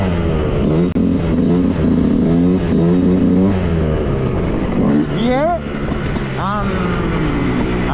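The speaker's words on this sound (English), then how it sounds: "Once you reach balance point, your bike is going to sound like this." Motorcycle engine held revving at the wheelie balance point: a steady, loud, close engine drone with fluctuating pitch, rising and falling near the end, with a voice talking over it.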